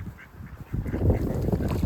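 Wild ducks and Canada geese call together outdoors, a loud cluster of overlapping quacks and honks that builds after a quieter start and continues densely to the end, with no talking.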